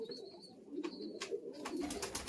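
Giribaz pigeons coo softly in short rolling phrases, close and faint, over a light background hiss.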